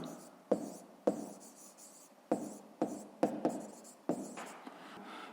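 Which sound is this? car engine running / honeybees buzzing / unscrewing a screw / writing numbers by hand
writing numbers by hand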